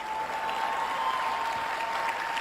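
Congregation at a French-language sermon applauding, a continuous even spread of clapping heard from some distance, with a faint steady tone running beneath it.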